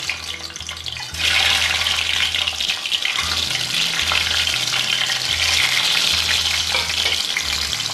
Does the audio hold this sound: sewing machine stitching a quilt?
no